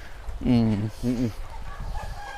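Chickens at a breeding farm let out two loud, close, harmonic clucking calls, followed by fainter clucks and background farm noise.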